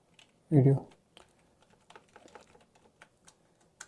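Light, scattered clicks of computer keyboard typing follow a brief loud burst near the start, with soft irregular taps continuing quietly.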